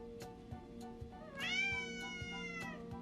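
A cat gives a clear, drawn-out meow partway through, close and fairly loud, rising and then trailing off over a faint steady hum with soft background clicks.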